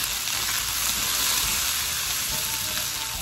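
Fresh onions and small red peppers hit hot oil in a pan, a loud, steady sizzle and crackle that holds evenly throughout with no talking.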